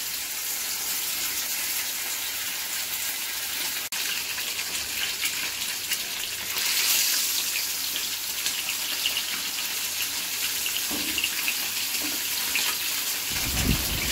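Marinated fish for Bengali doi katla sizzles in hot oil, a constant loud hiss and crackle throughout, with a few louder pops toward the end.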